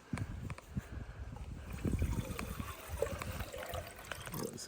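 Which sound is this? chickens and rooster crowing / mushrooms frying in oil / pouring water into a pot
pouring water into a pot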